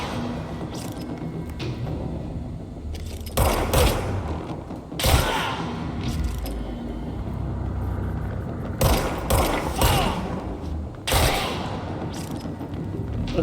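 Sniper fire in the shooter game Control lands as several sharp, heavy cracks and thuds spaced a few seconds apart over a rumbling, mechanical background.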